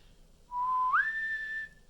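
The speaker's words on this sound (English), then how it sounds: "when you whistle low to high" A single clear whistle holds a low steady note, then slides smoothly up to a higher pitch and sustains it before stopping, close and alone.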